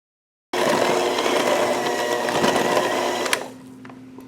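An electric mixer whirs steadily through cookie dough as flour is added slowly, a loud continuous motor drone that starts abruptly and drops to a quieter hum near the end.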